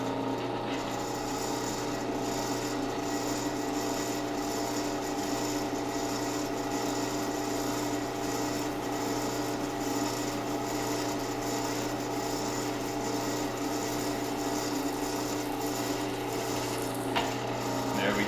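A drill runs with a steady mechanical grinding and whirring drone, boring a hole for a coffee table mounting bracket, continuously at an even level, close up, with no pauses.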